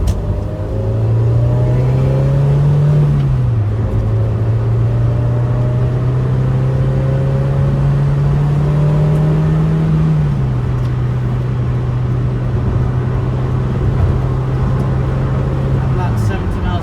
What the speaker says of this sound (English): we're now going onto the dual carriageway, so I'll open her up a wee bit